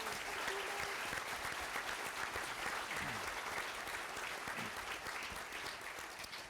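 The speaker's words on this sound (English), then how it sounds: "So please have a round of applause for our panel." Audience applause for a discussion panel at a morning power breakfast event, sustained even clapping from a room of people that tapers off gradually toward the end.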